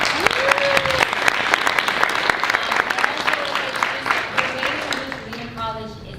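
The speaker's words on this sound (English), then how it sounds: "So shout out to Amy, clap it up. Clap it up." An audience claps and cheers at a dance event, dense applause running steadily throughout, with a few whoops and voices rising above it near the end.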